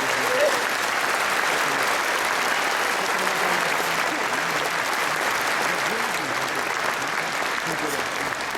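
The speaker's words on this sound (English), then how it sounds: "Please, big applause." A large audience applauds at a Lions international convention opening ceremony in Sydney, sustained even clapping that fills the hall at a steady level throughout, with faint crowd murmur underneath.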